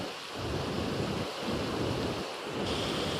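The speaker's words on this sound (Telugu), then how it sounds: "చుట్టూ కొండలు కొండల మధ్యలో వాటర్ ఫ్లో" Rainwater overflowing from a pond spillway rushes between hills in a loud, continuous torrent, near and unbroken, with a slight surging rhythm and no voices.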